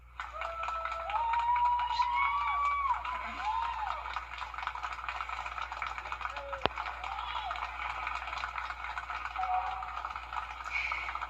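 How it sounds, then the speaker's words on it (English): Applause and crowd noise greet an injured sheriff's deputy leaving Wellstar MCG Hospital, surrounded by fellow deputies and friends; steady clapping and murmuring run throughout under talk, with a sharp knock partway through. "You hear the applause there."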